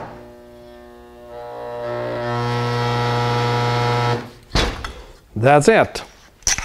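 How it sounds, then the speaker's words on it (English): A 220V spot welder joins aluminum pieces in a workshop, giving a steady electrical hum that swells louder over several seconds while the trigger is held, then cuts off abruptly, followed by brief clicks and a short spoken phrase. "So I'm ready now to spot weld."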